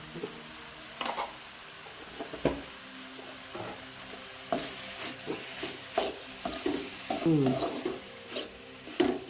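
A banana flower stir-fry is stirred in a pan after salt goes in, with repeated scraping and clattering strokes at an uneven pace and a voice speaking over it.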